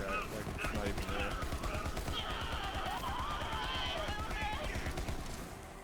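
Rapid gunfire from Moze's weapons in Borderlands 3, set up as an infinite-ammo build, rattling steadily at close range and mixed with game effects and a voice talking throughout.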